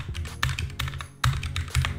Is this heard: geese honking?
no